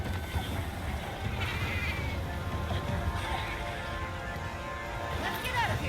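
A palico cat companion in Monster Hunter Wilds gives several short meows at moderate volume, rising chirps heard over a steady ambient rumble with talking alongside.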